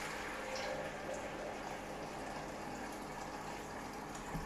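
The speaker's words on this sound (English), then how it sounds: "I'm going to put in some cold water." Cold water runs steadily into a pot of simmering homemade beef stock, giving a faint, continuous rushing and bubbling wash with no talking.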